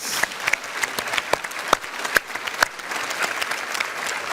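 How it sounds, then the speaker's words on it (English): A live studio audience in Fiji claps for itself at a Pacific panel discussion show, with sparse, distinct hand claps standing out against a softer wash of applause. "our wonderful Pacific audience, please give yourselves a big round of applause"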